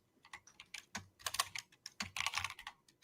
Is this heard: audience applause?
no